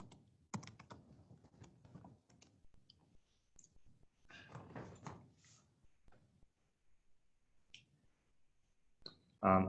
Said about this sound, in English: while you're typing the questions